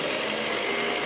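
A Janome N3000 sewing machine runs fast with a steady, continuous mechanical whir at close range, alone and without talk.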